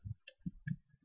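Computer keyboard typing while writing a PowerPoint slide: a few soft, separate key clicks in an uneven rhythm, close and quiet, with no talking.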